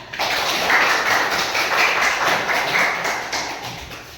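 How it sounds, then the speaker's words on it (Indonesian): An audience in a classroom presentation session gives steady, dense clapping that holds for about four seconds at close range. "Tepuk tangan ya"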